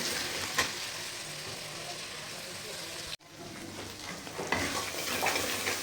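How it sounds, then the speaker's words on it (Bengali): Ground cumin, coriander, turmeric and chilli fry in hot oil with a steady soft sizzle and stirring scrapes, broken by a brief cut and then continuing, with some talk over it. "দেখো এর মধ্যে আমি এক এক করে মশলা দিয়ে দেবো, জিরের গুঁড়ো, ধনের গুঁড়ো, হলুদ, লঙ্কা, এগুলো দিয়ে দেবো"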